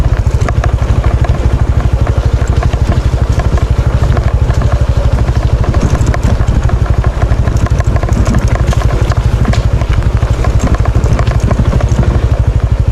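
A motorcycle rides over a rough road, its engine loud and close with a constant throbbing drone and rattling clatter that runs without pause.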